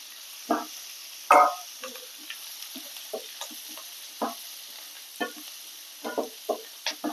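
Onions sizzle in a hot pan, with repeated short stirring scrapes at an irregular rhythm over a soft frying hiss.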